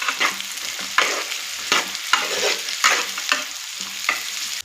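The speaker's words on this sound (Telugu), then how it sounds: "ఇలా కాకరకాయని యాడ్ చేసుకున్న తర్వాత బాగా కలపండి." Bitter gourd being stirred as it fries in a pan: a steady hiss of sizzling oil broken by about nine regular scraping strokes of the spatula, close and fairly loud, with no talk.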